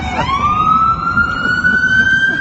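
An ambulance siren wails nearby in city traffic, its rising tone sweeping up and holding in a long steady cry over a low background of engine and street noise.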